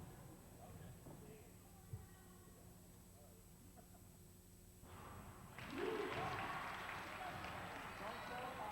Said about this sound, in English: She deserves a nice round of applause, which she did receive